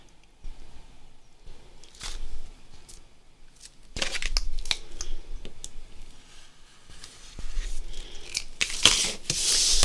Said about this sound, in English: And then I'm going to cut this at 5 3/4.